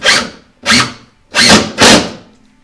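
A power drill whirs in four short bursts, each ramping up and cutting off, driving screws through wall studs at close range.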